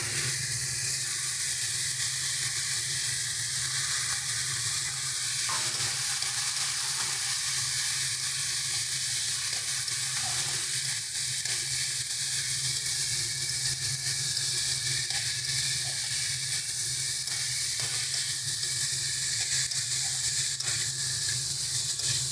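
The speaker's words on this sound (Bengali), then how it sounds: "ভালো করে সব কিছু মিক্স করে নেব।" Boiled taro frying in a pan with a little water for a taro-prawn curry, giving a steady close sizzle and hiss with occasional soft scrapes of stirring.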